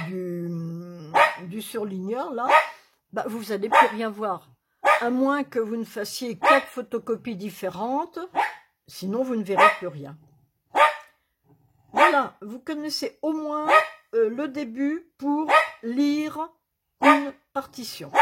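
A pet dog barks in short, scattered bursts in the background while someone talks steadily throughout.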